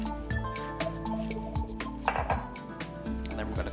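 A utensil tossing salad leaves with vinaigrette in a bowl while making a ham and spinach Italian-style omelette, with soft clinks and wet squishing over a steady kitchen hum and background music.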